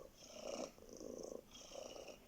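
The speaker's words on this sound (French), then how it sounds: "Prenons quelques instants maintenant pour observer un chat qui dort." A sleeping cat purrs softly and close by in slow, even rhythmic cycles, each breath a low rumbling phase, alone in a quiet room.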